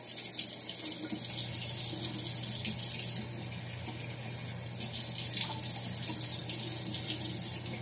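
Water runs steadily from a bathroom sink tap while someone rinses their face, a continuous close splashing stream with slight shifts in flow and no voices.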